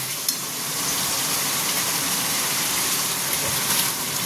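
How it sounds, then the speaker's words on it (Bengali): Jackfruit sizzles loudly as it is stir-fried in a spiced masala in a hot pan, a close, continuous crackling fry with soft scraping and stirring and no voices over it. "এরপর আমি এঁচোড় দিয়ে আরেকটু কষবো"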